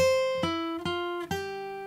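A guitar plays a descending scale pattern, stepping down a sixth then a couple of steps up, each struck note ringing clear and sustained before the next.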